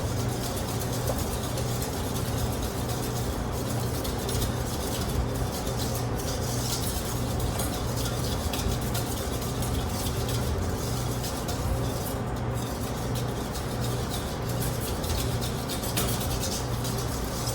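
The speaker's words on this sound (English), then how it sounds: "Stir it all the way through. You don't want little bits of butter." A whisk works butter into pastry cream in a bowl, giving a steady, soft rubbing and scraping that runs without a break, close and quiet.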